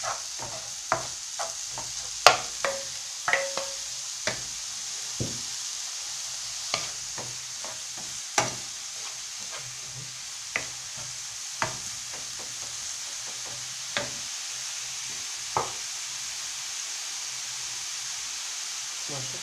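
Onions fry in hot oil, giving a quiet steady sizzle broken by scattered sharp clicks and pops. No one speaks.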